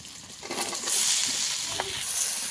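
Chopped vegetables go into hot oil with already-fried onions, a loud broad sizzle that swells and stays steady, with a few stirring scrapes and no talk.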